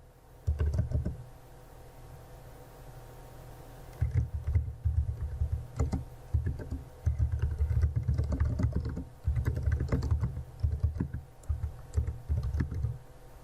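Steady clicking of fingers typing on a computer keyboard in a quiet room, bursts of keystrokes broken by short pauses, close and moderately loud, while a comment is entered in Autodesk Vault Client software.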